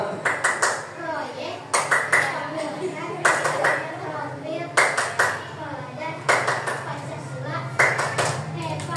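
A group claps the Tepuk P5 routine, repeating a patterned sequence of crisp close claps roughly every second and a half, with a voice and children talking over the rhythm.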